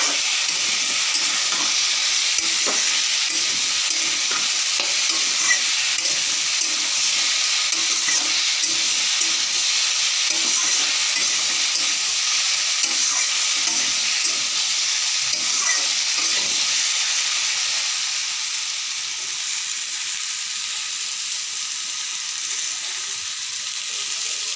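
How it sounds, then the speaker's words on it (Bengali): Ridge gourd and potato sautéing in a pan, a continuous sizzle and hiss with scraping stir strokes throughout, the frying easing slightly toward the end. "ঝিঙ্গা আর আলু ভালো করে মজায় নিলাম"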